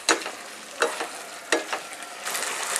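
Onion and capsicum stirred into chilli gobi in a hot pan, with several sharp scraping strokes over a steady sizzle, close up with no talking.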